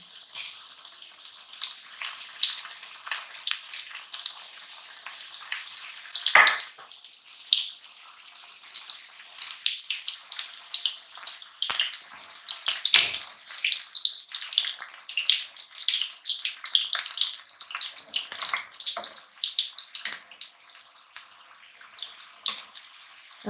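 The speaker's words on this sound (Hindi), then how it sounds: "हल्की आंच पे हम इनको फ्राई करेंगे" Chicken spring rolls frying in oil in a wok over low heat, giving a steady crackling sizzle with dense bubbling across the whole stretch and a few sharper pops, with no talking.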